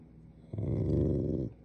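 A dog grumbling and talking back to its owner, a single low, drawn-out rumbling growl-like vocalization, close and steady for about a second with no talk over it.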